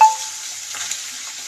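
Potato pieces sizzle steadily in hot oil with cumin, turmeric and red chili masala for dabeli, a constant close frying hiss with light stirring.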